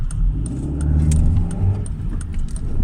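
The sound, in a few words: 2008 Honda Civic FN2 driving on the motorway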